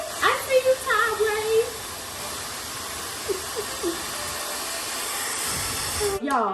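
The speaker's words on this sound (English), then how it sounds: "this hair dryer got some power to it" A Tideway thermo-control hair dryer runs with a steady, broad airy whoosh that holds throughout, while a person talks over it near the start and again briefly later.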